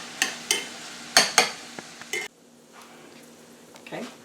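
Keto sausage and bacon muffin batter being stirred in a bowl, sharp clinks and scrapes of a utensil against the side in quick irregular strokes, then a quieter stretch of soft mixing.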